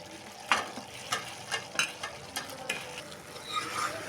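Veg Manchurian balls are stirred through gravy in a pan. A spoon scrapes and knocks in a steady rhythm, about once every half second, over a soft background simmer, close by and with no talking.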